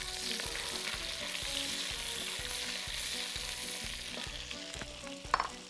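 Onions fry in a pan with a steady close sizzle and a faint rhythmic stirring pulse throughout, then a couple of sharper clatters near the end.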